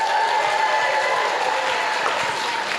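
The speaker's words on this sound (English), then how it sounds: "give a warm round of applause to our speaker of the night" An audience at a live astronomy lecture applauds the evening's speaker with loud, dense, sustained clapping that fills the hall and stays even throughout.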